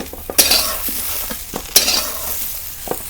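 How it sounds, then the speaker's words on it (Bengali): Moringa drumstick pieces frying in hot oil for a Bengali shukto, a steady close sizzle with a couple of sharp utensil clacks as they are stirred and lifted from the pan. "সজনে খাড়াগুলো ভাজা হয়ে গেছে"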